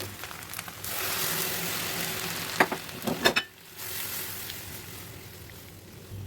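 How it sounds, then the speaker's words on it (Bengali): Shrimp and fish roe scramble stirred in a pan after broth is added, giving a steady soft sizzle with a few sharp spatula scrapes near the middle before the bubbling settles again, with no voices. "ঝোল দেওয়ার পরে একটু নেড়েচেড়ে ভালো করে মিশিয়ে নিলাম"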